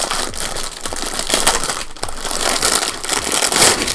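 Binders being moved around produce a continuous, dense crinkly rattle and clatter, close and fairly loud throughout, with repeated scraping and shuffling pulses.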